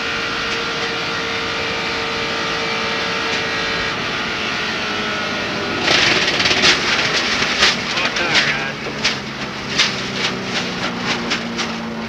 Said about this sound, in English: You heard him back off the throttle